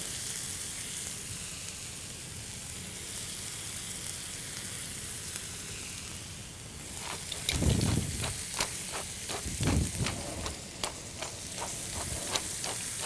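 A thick bone-in ribeye steak searing in a cast iron pan, a steady close sizzle throughout that flares into louder crackling and spitting in the second half.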